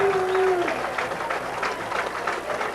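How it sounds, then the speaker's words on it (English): Wellington crowd at a 1997 football game between the Dukes and Buckeye, a broad roar of cheering and applause under a whistle at the start, steady and fairly loud throughout. "That gets a response from the Wellington crowd there"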